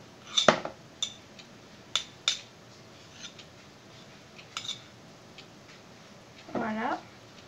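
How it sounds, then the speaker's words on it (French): A big spoon scraped with a small spoon while making homemade polymer clay paste: scattered sharp metallic clinks and taps, then a short scraping rasp near the end, close and fairly quiet. "vous allez gratter la grosse cuillère avec la"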